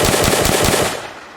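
A full-auto weapon in an Unreal Engine zombies game fires a rapid burst of about six evenly spaced shots, loud and close, then cuts off into a short fading tail.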